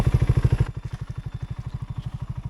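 A BSA 650 Goldstar motorcycle engine idles with a steady, lumpy pulsing beat that drops in level and falters midway, as if about to stall.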